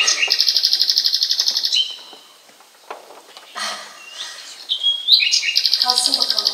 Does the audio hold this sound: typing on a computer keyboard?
no